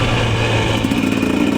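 A Husqvarna TE300 dirt bike engine on a break-in ride, a loud continuous two-stroke drone held steady, close up, with no voices.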